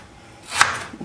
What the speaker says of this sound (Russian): Вначале нарежем картофель.